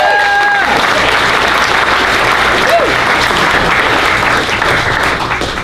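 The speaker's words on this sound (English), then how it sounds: "Give a big round of applause for yourself." Comedy club audience at The Improv breaks into sustained, loud applause that fills the room steadily from start to finish, with a few voices mixed in.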